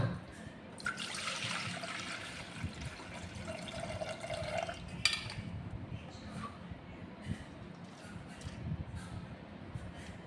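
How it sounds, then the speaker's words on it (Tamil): Soaked rice for steamed puttu draining in a strainer, giving a soft steady trickle and patter of water, faint and close, with a brief brighter splash in the first half. "இதில் வச்சு தண்ணி வடிகட்ட போகிறோம்."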